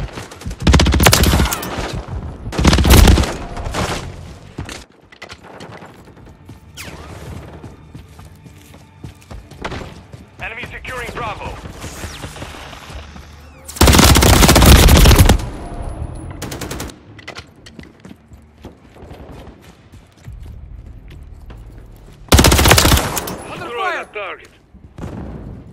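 Bursts of automatic gunfire from Call of Duty: Modern Warfare 3 multiplayer, loud rapid volleys in several separate bursts between quieter stretches of footsteps and game sounds, with in-game voice callouts in places.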